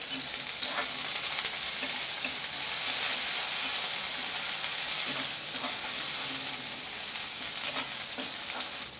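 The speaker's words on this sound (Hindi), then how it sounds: "अब इसमें डालेंगे हम अदरक लहसन का पेस्ट आधा चम्मच थोड़ी सी हल्दी पाउडर भी डाल देते अदरक लहसन को भी थोड़ा फ्राई कर लेंगे" Ginger garlic paste sizzling in a pan with onion, green chilli and turmeric for a Khandeshi mutton chutney, a steady close hiss of frying broken by occasional stirring scrapes, with no voice over it.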